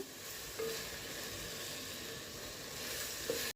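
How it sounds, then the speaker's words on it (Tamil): Spices with turmeric and chili powder sizzle and fry steadily in hot oil for village-style kootan soru, a continuous close hiss with faint stirring throughout. "நல்லா வதக்கிக்கலாம் மஞ்சத்தூள் சேர்த்துக்குருவோம் மிளகாத்தூளையும் சேர்த்துக்குருவோம்"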